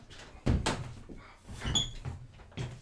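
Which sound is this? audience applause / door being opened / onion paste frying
door being opened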